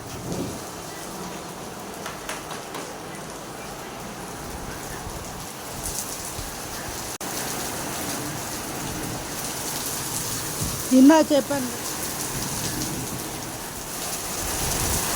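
Full, heavy rain pours steadily on surfaces outdoors, a constant hiss with a brief louder gush of splashing near the end and a voice speaking briefly over it.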